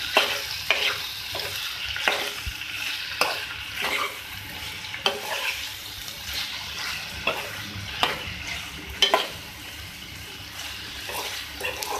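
Tinda sabzi, round gourd curry, is stirred and mixed in a pan with steady scraping and soft sizzling, and sharp spoon knocks recur every second or so throughout.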